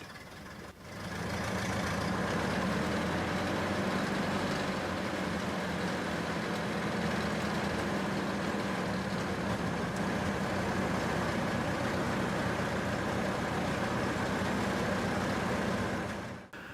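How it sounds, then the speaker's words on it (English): A 1914 Cadillac Touring car, the model known as the 30, with its 4-cylinder motor running steadily on the road, a continuous rumbling drone that fades in at the start and cuts off at the end. "This is a 1914 Cadillac Touring."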